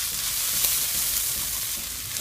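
Mushrooms and carrots sizzling and browning in a hot pan, a steady close frying hiss with faint stirring.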